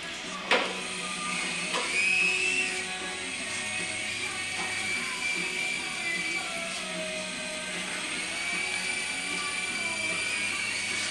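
A small 3-channel RC toy helicopter hovers nearby, its electric rotor motor giving a steady high-pitched whine that holds for the whole stretch with slight pitch shifts.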